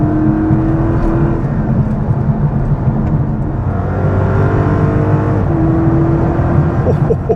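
The Hemi V8 of a 2023 Chrysler 300C drones loudly and continuously, its pitch rising and falling as it revs, heard from inside or close to the car.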